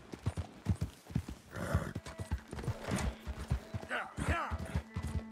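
Horse hooves clip-clopping in a steady rhythm with occasional snorts and a whinny in the video game Red Dead Redemption 2 online mode, close and moderately loud.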